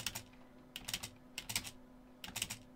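Computer keyboard typing in short bursts of rapid clicks, quiet and close, separated by pauses over a steady low hum.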